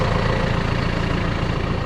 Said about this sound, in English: this is a big fan